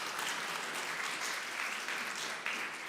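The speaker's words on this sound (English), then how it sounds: "An applause, please." An audience at a drug policy and harm reduction conference opening session applauds steadily for about three seconds, a dense, even wash of many hands clapping at a moderate distance, with no talking over it.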